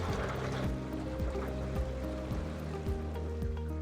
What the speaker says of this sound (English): To turn your jets on, you press these buttons.